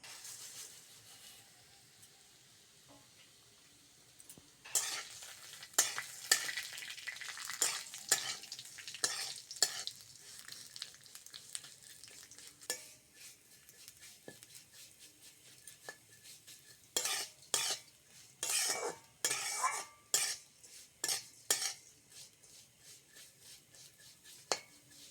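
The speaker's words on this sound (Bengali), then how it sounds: "তেলের মধ্যে সিমইটা দিয়ে দেবো" Vermicelli frying in white oil in a pan, starting with a quiet hiss and then turning into a long run of close, rhythmic scraping and stirring strokes against the metal, with no voices.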